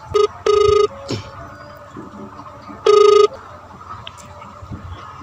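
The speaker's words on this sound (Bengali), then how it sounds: "রিং হচ্ছে গাইস, রিং হচ্ছে।" Ringback tones on a prank call repeat in short and longer bursts with quiet gaps between them, clear and close over faint background hiss.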